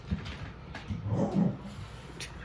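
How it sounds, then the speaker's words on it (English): An animal growls low and close, a rough rumbling snarl swelling in the middle of the clip and then fading, with quiet surroundings and no talking. "I don't know if you heard the growling."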